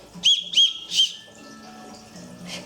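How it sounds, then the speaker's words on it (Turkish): A toy whistle blown three times in quick short bursts, each a shrill high tone, followed by a fainter breathy puff near the end over quiet room noise. "Düdükten üflemesini öğretiyor"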